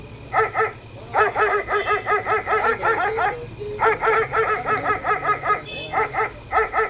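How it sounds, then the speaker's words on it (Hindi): Dogs bark in rapid, repeated bursts, loud and close, on a stormy night in a Motu Patlu cartoon, with brief pauses between volleys over a low background rumble. "कुत्ते जोर जोर से भौंकने लगे थे"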